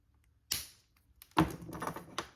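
Cutters snip jewelry wire while ear wires are made, two crisp close clicks spaced about a second apart, followed by light handling rattles, with no talking.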